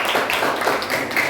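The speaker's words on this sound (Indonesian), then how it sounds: "beri tepuk tangan sekali lagi untuk Restu perwakilan kelompok" A classroom group claps for a student who has just presented as the group's representative: a short, steady burst of many hands clapping together, close and fairly loud, with no talking over it.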